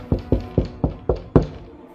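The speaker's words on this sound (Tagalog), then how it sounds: "biglang may kumatok sa pintuan." Six sharp knocks on a door land at an even, unhurried pace, close and distinct, with the last one slightly harder, then quiet.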